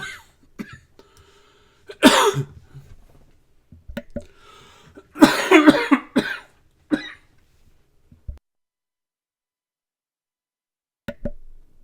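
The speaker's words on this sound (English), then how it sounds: "did you actually hear me cough?" A few sharp coughs burst out at intervals, loud and close, separated by quiet gaps and small clicks.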